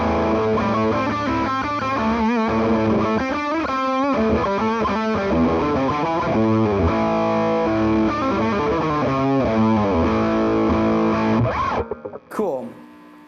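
Distorted electric guitar played through a Wampler Pinnacle Deluxe pedal on its modern channel with high gain. Loud, saturated chords and riffs run continuously for about twelve seconds, ending with a brief ringing pluck.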